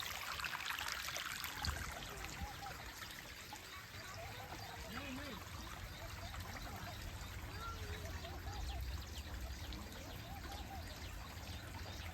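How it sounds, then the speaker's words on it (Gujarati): Water flowing along an irrigation channel in a village farm field. A soft, continuous trickle and stream runs throughout, with faint birdsong and distant voices in the background. "હાર્દિકભાઈ પાણી વાળે છે"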